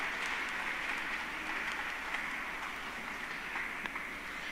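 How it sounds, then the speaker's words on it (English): Audience applause for moderators and panelists at a live design event, a dense, even wash of clapping that stays steady and fairly distant for the whole stretch, with no voices standing out. "A huge round of applause for all our moderators and panelists"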